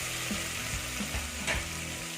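Chopped tomatoes sizzle and fry in oil in a pan for egg biryani, a steady crackle with occasional stirring scrapes, close and fairly quiet.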